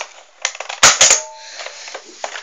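A toy Nerf blaster with a rear-pull reload and a revolving cylinder fires two sharp, close snapping pops in quick succession, set among lighter clicks and handling rattles.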